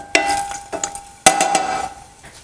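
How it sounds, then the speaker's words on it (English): Peeled garlic in hot oil in a pot is stirred with a wooden spoon, giving three sharp knocks against the ringing pot over a faint sizzle, each knock followed by brief scraping. "Now we're going to add it to the hot oil and let it kind of flavor the oil."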